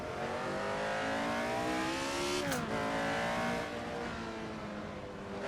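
Car engine from a racing game played on a Fanatec Clubsport Wheel V2.5, a steady loud droning whine holding pitch, dipping briefly at a gear shift, then continuing at speed.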